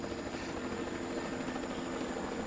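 A helicopter over the Amazon jungle gives a steady, continuous rotor drone, loud and even throughout with no break, heard from up in the forest canopy.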